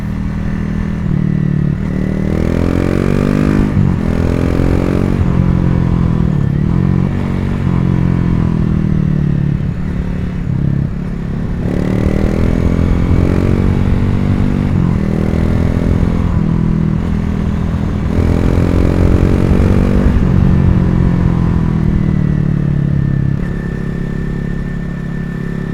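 A Honda CRF250L motorcycle engine revs repeatedly while riding, its pitch rising and falling in several throttle surges over a steady, loud running drone, with no talking.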